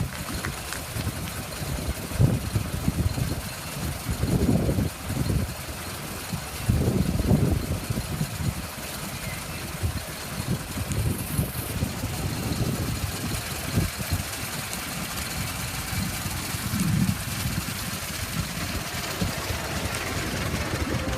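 A 1908 Maxwell, the oldest four-cylinder Maxwell, running at the Red Flag kick-off event, a steady chugging idle with a low throbbing pulse and occasional surges, heard alongside outdoor ambience.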